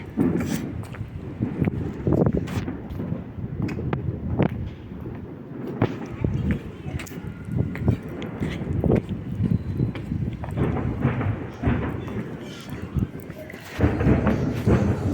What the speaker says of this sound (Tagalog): Putukan na sa labas! Fireworks na!